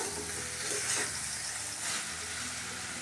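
Spice paste sautés in a pan for rohu fish curry, giving a soft, even sizzle with faint stirring movements throughout and no talking.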